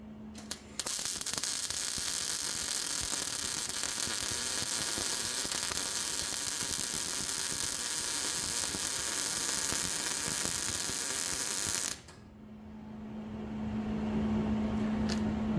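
Wire-feed welding on a steel smoker barrel produces a steady, bright crackling buzz that holds for about eleven seconds, then stops abruptly, leaving a low hum.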